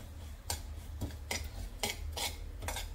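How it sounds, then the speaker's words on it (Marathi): Poppy seeds roast in half a spoon of ghee as a utensil sweeps through them in about six regular scraping strokes over a soft, low background hiss. "खसखस ही थोडीशी परतून घ्यायची आहे"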